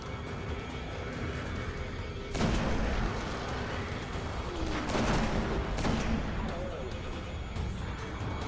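Heavy hand cannon shots and booming blasts in the Destiny video game crack out a few at a time during a level 30 nightfall strike, while a player talks over the fight.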